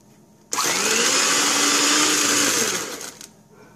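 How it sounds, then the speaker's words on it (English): An electric mixer creams sugar and butter for Reese's chewy chocolate cookie dough, its motor whirring loud and steady for about three seconds after starting abruptly, then tapering off. "We're going to mix those together with a mixer until they're light and fluffy."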